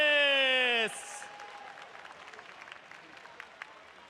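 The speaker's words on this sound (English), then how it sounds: "どうぞファイナリストたちに盛大な拍手をお願いします" A crowd applauds the top 8 finalists at an Evo Japan BlazBlue Cross Tag Battle fighting game tournament, the clapping rising right after an announcer's voice cuts off and then continuing as a steady, moderately loud patter.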